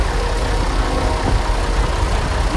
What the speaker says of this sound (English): Jerry Healers, 1969, Minneapolis Moline G1050.